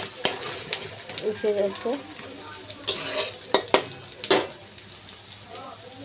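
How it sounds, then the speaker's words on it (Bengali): Onion frying in a pan for a Bengali fish-oil gourd-leaf dish, with a soft sizzle under repeated spatula clanks and scrapes against the metal, plus a brief spoken remark. "পেঁয়াজটা অল্প ভাজবো"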